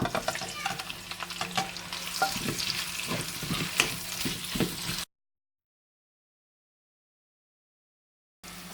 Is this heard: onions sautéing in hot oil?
yes